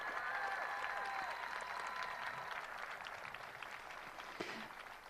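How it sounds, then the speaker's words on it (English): Steady applause from a crowd at an outdoor March for Life rally, a dense wash of clapping that holds loud throughout and eases slightly toward the end, with no talk. "We can give God a round of applause,"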